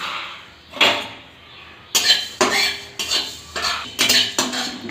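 Whole coriander seeds tossed in a dry kadai give a series of close, fairly loud metallic scrapes and clinks in uneven rhythm, with no voice over them.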